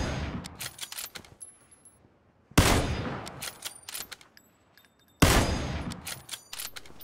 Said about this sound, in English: He's shooting at the guy downstairs.